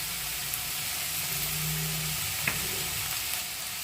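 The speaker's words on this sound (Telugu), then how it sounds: "కాలీఫ్లవరు ఉల్లికాడలను ఇలా అయితే తాలింపులో వేసుకున్నాను" Cauliflower and spring onions frying in a hot oil tempering, giving a steady, close sizzle with no one talking.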